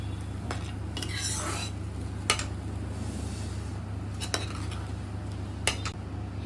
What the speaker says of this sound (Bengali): গরম জল দিয়ে ভালো করে সমস্ত কিছু মিশিয়ে নিচ্ছি